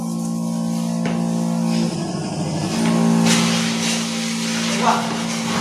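A battery-powered agricultural spray pump's electric motor hums with a steady, even drone while a hissing spray runs underneath, and someone talks over it.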